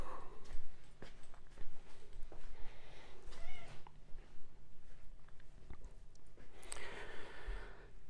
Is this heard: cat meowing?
yes